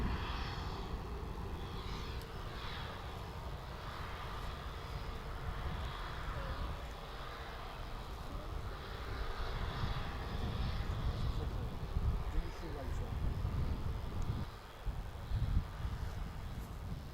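A Turkish Airlines Airbus A321 airliner at an airport gives off a steady, loud, broadband engine roar that lasts throughout and swells slightly near the end, with no talking.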